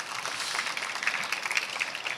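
Church audience at a Holy Festival applauding the pastor after his sermon, a soft, steady patter of many hands clapping with no voices over it.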